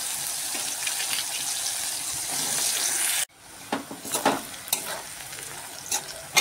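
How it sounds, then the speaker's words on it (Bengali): Onions frying in a kadai after potatoes were fried, a loud steady sizzle that cuts off abruptly partway, then softer sizzling with intermittent scraping stirs. "তো এখন আমি কড়াইতে দিয়ে দিচ্ছি পেঁয়াজ।"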